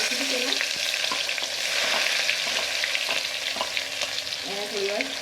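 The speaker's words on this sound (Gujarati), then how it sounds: "તો આપણે જીરું નાખીશું, હિંગ નાખીશું, સૂકી ડુંગળી જે ઝીણી કટ કરી હતી એ નાખીશું પહેલાં" Cumin seeds, asafoetida and finely chopped dried onion sizzling in hot oil for a Gujarati dudhi chana dal curry, a dense continuous crackle with occasional stirring clicks close by.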